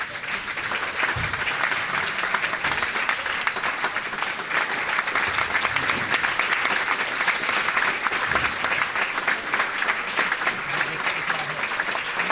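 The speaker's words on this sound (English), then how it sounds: "that applause is for the other game happening" Steady applause from spectators at a neighbouring squash game on court 1 of a university home fixture, a dense, continuous clatter of clapping heard at a distance for the whole stretch, with no talk over it.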